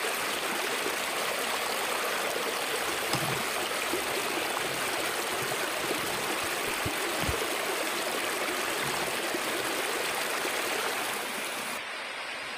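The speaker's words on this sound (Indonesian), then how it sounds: "Ini hari hujan, hujan lebat." Heavy rain during a thunderstorm at a bamboo-shelter campsite: a loud, continuous broadband hiss of downpour, steady throughout, with a few faint low knocks underneath and no talk.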